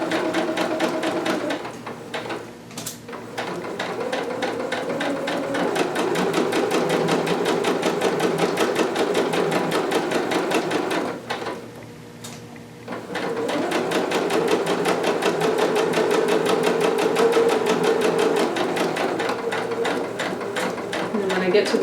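A sewing machine stitches across the top of a bodice for a Vogue 2530 dress, a fast steady clatter of needle strokes that halts twice briefly for back stitching, then resumes.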